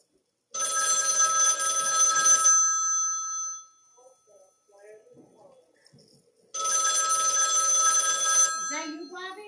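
Loud mechanical bell of a 1960 Western Electric rotary dial desk phone ringing in two long bursts separated by a few seconds of quiet, close to the listener, with brief talk in the gap.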